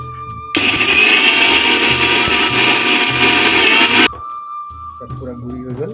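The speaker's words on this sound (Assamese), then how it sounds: "এতিয়া আমি মছলাখিনি মিক্সাৰ গ্ৰাইণ্ডাৰত ভৰাই লৈছোঁ। এতিয়া আমি অকণ গুড়ি কৰি ল'ম" A kitchen mixer grinder whirs loudly for about three and a half seconds, grinding spices for a karonda pickle, then cuts off abruptly. Talk is heard before and after the grinding.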